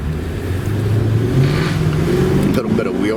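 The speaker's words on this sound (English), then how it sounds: "Little bit of wheel spin." A Mercedes-Benz SL500 R129 roadster's V8 engine revs up loudly as it accelerates hard with a little wheel spin, the note climbing steadily over about three seconds under continuous road and wind noise.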